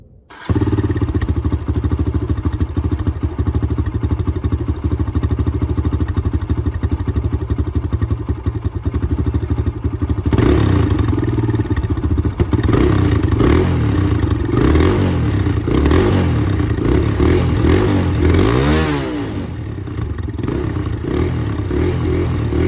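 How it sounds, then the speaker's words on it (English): A stock-exhaust Kawasaki KLX dirt bike, already warmed up, idles with a steady, loud, lumpy rumble, then revs and rushes past in flybys with rising and falling engine pitch, close to the listener and with no talk over it. "So start up, this is all stock still, and then we'll do some flybys"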